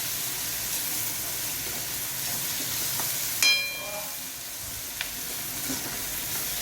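Crushed tomatoes tipped into a pan of frying onions hit the hot oil with a sudden, close sizzle that rises sharply and then settles into a steady hiss, with faint stirring clinks later.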